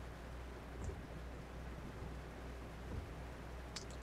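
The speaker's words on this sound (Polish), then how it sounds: "Wycieraczki chodzą, światła świecą, deszcz pada" Rain falls steadily in Euro Truck Simulator 2 while a truck drives at 90 km/h with wipers running, a faint continuous hiss over low engine rumble.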